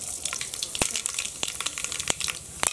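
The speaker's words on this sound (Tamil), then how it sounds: "கடுகு நல்லா பொரிஞ்சிருச்சு," Mustard seeds splutter in hot oil in a pan, giving sharp irregular pops and crackles over a continuous sizzling hiss, heard up close with no talking.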